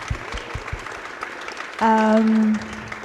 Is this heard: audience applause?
yes